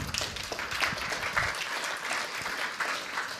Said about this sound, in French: Merci Christian, on l'applaudit bien fort.